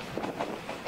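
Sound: series 50 passenger coaches of a night train running on rails

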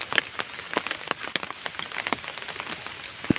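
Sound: rain falling

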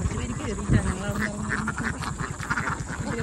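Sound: ducks quacking while climbing in

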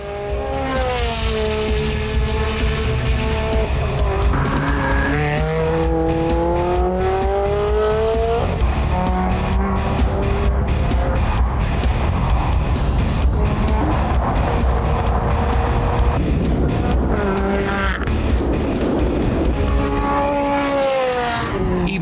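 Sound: Ferrari Challenge Stradale race car driving fast

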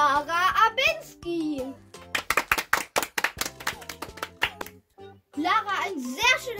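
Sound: class clapping for a pupil's report card

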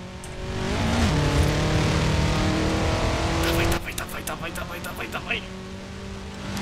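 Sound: Ford Focus car engine racing in video game Forza Horizon 4

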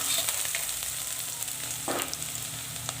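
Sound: onion and garlic-cumin paste frying in oil

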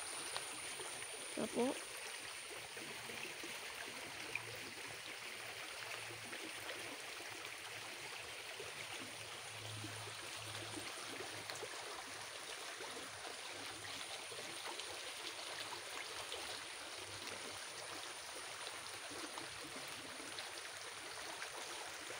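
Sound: water flowing in a stream

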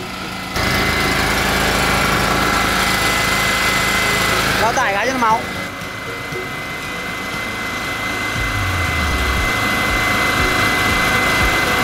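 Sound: Honda EHM2900 generator engine running under load

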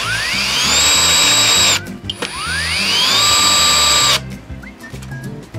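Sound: Xiaomi 12V cordless drill driving a screw until tight

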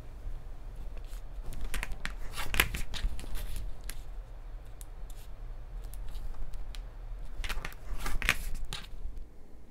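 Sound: trimming a fabric quilt block

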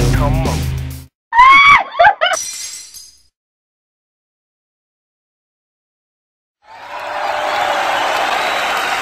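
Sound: audience applause

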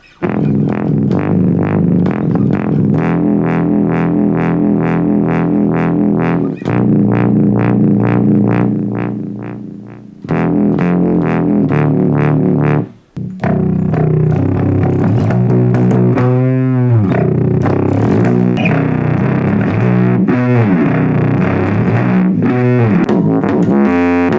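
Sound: synthesizer waveform through bass modeler

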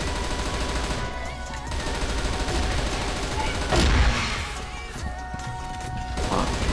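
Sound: Kriss Halloween gun firing in video game CF West

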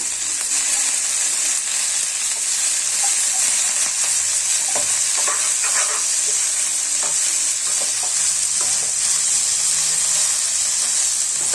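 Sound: ingredients frying in pan for aloo pudina gravy

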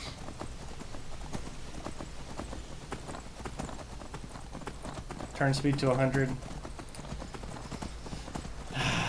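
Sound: horse hooves clip-clopping in Skyrim video game

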